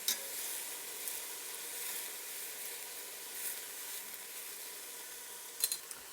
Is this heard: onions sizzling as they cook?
yes